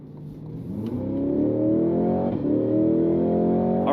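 A Cadillac CT5-V Blackwing sedan with the 10-speed automatic accelerates, its engine note climbing steadily through a gear, heard up close and loud inside the car with no talk.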